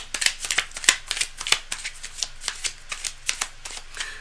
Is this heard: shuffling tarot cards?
yes